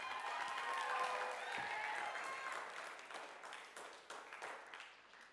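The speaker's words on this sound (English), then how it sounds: "Give her a big round of applause." Audience applause fills a room at a camp gathering, loud and steady at first, then thinning and fading toward the end, with scattered individual claps standing out.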